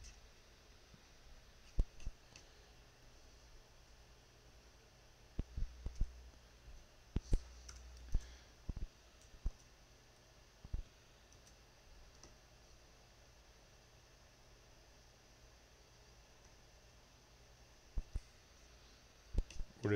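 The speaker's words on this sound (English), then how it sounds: "Alright, I'll just type it in." Sparse bursts of clicky key presses on a computer keyboard, quiet and close, clustered in short runs separated by long near-silent pauses.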